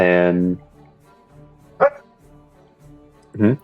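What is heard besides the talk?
dog barking in the background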